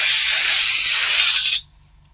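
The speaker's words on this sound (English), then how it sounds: "And what we're going to do is spray this" A thick winter camo weathering wash is sprayed onto a model tank in one steady, loud, close airbrush hiss lasting about a second and a half, then it cuts off abruptly into near silence.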